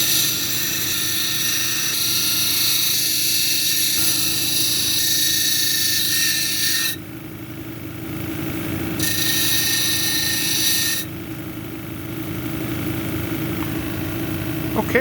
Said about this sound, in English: So first we'll start with the 80 grit to shape it, and then dome it